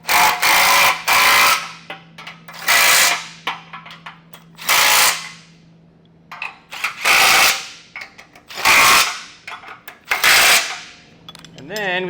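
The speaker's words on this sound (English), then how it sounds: "So we'll come back with our 15 and snug down the bumper beam bolts first." Socket tool snugging down bumper beam bolts while a Blue Ox base plate kit is fitted to a 2024 GMC Canyon: several loud, close bursts of ratcheting power-tool whirr, each a second or so long, separated by pauses with a faint steady hum.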